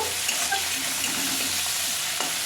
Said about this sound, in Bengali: পেঁয়াজের কুচিগুলো দিয়ে আমি কিছুক্ষণ ভাজবো।